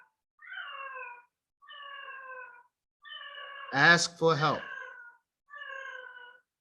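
A cat meows twice in quick succession, loud and close, breaking into steady stretches of speech before and after.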